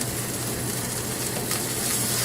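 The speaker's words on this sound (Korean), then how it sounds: "가지도 마찬가지로 소금 후추 간을 하고 구워줍니다." Sliced eggplant seasoned with salt and pepper sizzles steadily on a hot grill pan, a dense, even crackle of frying that holds close and constant throughout with no voices.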